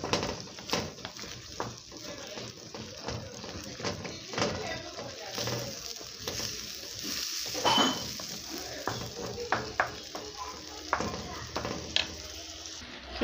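Tomatoes frying in a couple of spoonfuls of olive oil, a soft sizzle under repeated stirring scrapes and utensil clinks against the pan, with a voice talking over parts of it.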